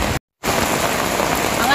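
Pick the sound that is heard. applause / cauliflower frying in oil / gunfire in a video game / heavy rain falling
heavy rain falling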